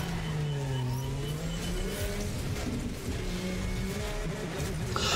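Cars in the racing video game Need for Speed The Run drone loudly and continuously, their engine pitch rising and falling as they accelerate and shift, over a dense wash of noise.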